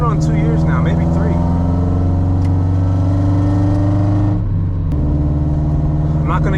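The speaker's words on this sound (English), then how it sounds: "just enjoying the engine and listening to the way it sounds" A B-series swapped Honda Civic engine drones steadily while driving, a loud, close, sustained hum that dips briefly as if shifting, then resumes; a voice speaks over it.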